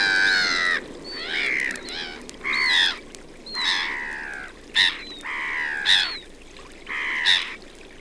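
Black-headed gulls calling at a park lake, a series of harsh, drawn-out squawks and cries, fairly close and loud, with short gaps between the calls.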